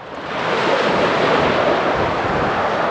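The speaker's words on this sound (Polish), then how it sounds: "Patrz, że wieje wiatr." Steady wind rushing over a beach, a loud continuous broadband roar with surf-like texture that builds in the first half-second and then holds evenly, with no talk.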